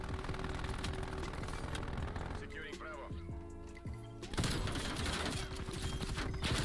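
Rapid automatic gunfire from the Call of Duty Cold War video game on the Nuketown map, loud dense bursts that pause briefly and then resume harder over game sounds and effects.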